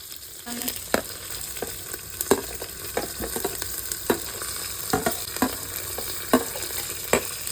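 Masala fries in two to three spoons of oil inside a pressure cooker on the stove, a continuous crackling sizzle broken by frequent sharp scraping knocks from stirring.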